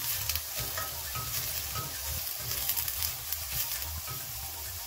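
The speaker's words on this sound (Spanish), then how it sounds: "Vamos a sofreír las verduras en 2 cucharadas de aceite de oliva." Onion sautéing in two tablespoons of olive oil, a steady close sizzle and crackle of frying with occasional stirring scrapes, loud and continuous with no talk.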